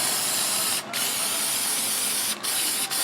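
Filter oil sprayed from an aerosol can onto an air filter, a loud close continuous hiss broken by three short gaps between bursts.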